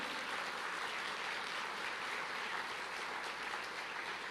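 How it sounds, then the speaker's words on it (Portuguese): A church congregation breaks into dense, sustained applause, a steady wash of many hands clapping throughout with no pauses and no voices above it. "dá uma salva de palmas para Jesus"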